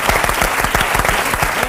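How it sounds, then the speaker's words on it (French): A studio audience on a French TV talk show claps steadily and enthusiastically, a dense round of applause filling the whole moment. "Jonathan, tu es devenu une star, on t'applaudit"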